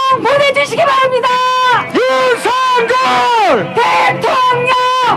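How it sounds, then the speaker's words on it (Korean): A packed crowd at a Seocho-gu campaign rally for presidential candidate Yoon Suk-yeol chants his name in loud rhythmic unison, voices rising and falling in repeated bursts with cheering mixed in. "다시 한번 우리 윤석열 대통령 후보께 뜨거운 함성 보내주시기 바랍니다"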